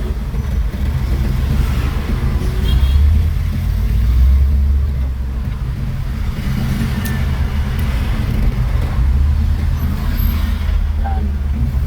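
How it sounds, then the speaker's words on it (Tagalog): Slow, congested city road traffic with cars and buses near students leaving school, a heavy low engine rumble with a brief air brake hiss, recorded from inside a vehicle. "Ganito yung traffic dito mga kabayan."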